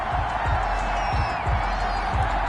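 A football stadium crowd at an Arizona Cardinals versus Dallas Cowboys preseason game reacts to a penalty flag with a loud, sustained roar and rhythmic clapping, under a commentator's voice.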